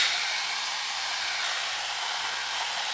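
A hair dryer runs steadily through the whole stretch while hair is dried after being slicked back, its loud, even, breathy whir unbroken and close, with no talking.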